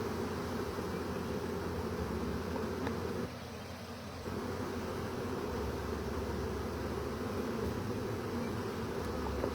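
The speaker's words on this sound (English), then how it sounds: "Just catching more swarms today, because we need more bee colonies." A swarm of honey bees buzzing in a dense, continuous hum during spring swarm catching, steady and fairly faint, with a short dip partway through and no talking.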